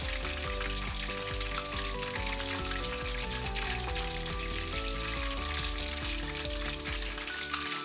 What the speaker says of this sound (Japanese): よく押し付ける感じで 170度になりましたので揚げていきます。